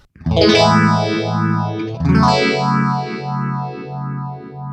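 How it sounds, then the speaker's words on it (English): Distorted electric guitar chords through a Boss GT-100 with a custom four-stage phaser effect, two struck chords each ringing out under a rhythmic whooshing swirl. "I've given it a phaser, which I've kind of taken their 4-stage phaser and turned it into my own version"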